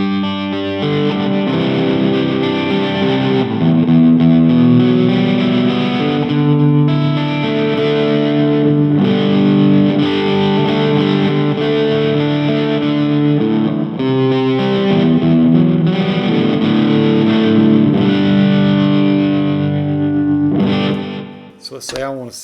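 A distorted electric guitar plays sustained chords and notes through a Fender Mustang LT25 amp, washed in plate reverb, loud and continuous before cutting off near the end.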